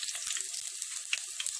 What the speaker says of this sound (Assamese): মাছখিনি অকণমান ৰঙাকৈ ভাজি ল'ম।